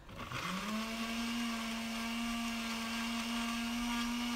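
A glass blender grinding spices with water in a home kitchen spins up quickly and holds a steady, loud, high motor whine with a continuous grinding hiss, alone without talk.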